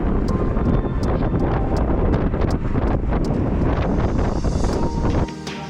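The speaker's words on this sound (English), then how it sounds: "What we hadn't expected was a relentless headwind waiting for us." Strong, relentless headwind buffets a cyclist's microphone as a constant loud roar on a countryside road, easing slightly in the final second.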